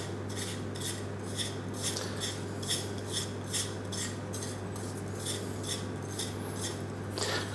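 Spice mix being stirred with cutlery in a dish for roast potatoes: steady rhythmic scraping and clinking strokes, close and moderately loud, over a constant low hum, with no talking.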